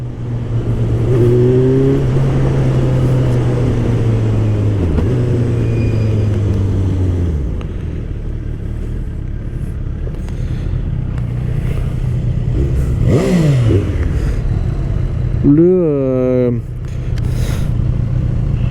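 A motorcycle engine idles with a deep steady roar, then revs up in a series of rising and falling sweeps and sharp throttle blips, loud and close throughout.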